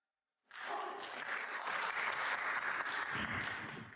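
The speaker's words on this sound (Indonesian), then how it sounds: "Mendengar tepuk tangan dari seluruh ruangan" Applause erupts after a brief silence and swells into sustained, even clapping from an entire room, staying full and continuous to the end.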